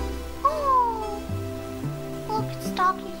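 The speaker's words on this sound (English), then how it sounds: "Oh, look, it's doggy." Dog whimpering in the video game Final Fantasy VIII: a few high, drawn-out whines with falling pitch, heard over sustained game music.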